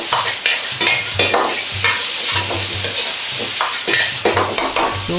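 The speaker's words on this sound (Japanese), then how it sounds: "このくらいまで炒めたら合わせ調味料を入れます。 よく絡めるように混ぜ合わせます。" Shiso gapao filling stir-fried with a mixed seasoning sauce in a pan, a steady loud sizzle broken by repeated scraping stirs of the spatula throughout, with no talking.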